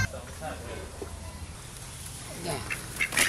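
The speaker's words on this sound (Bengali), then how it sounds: "আরে মেঘনাথ দা, দারুণ হাঁস তো" A village duck that forages on water quacks several times among voices talking, moderately close, with louder calls near the end.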